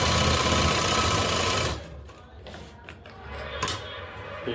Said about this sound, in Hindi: डबल सिलाई लगाएंगे।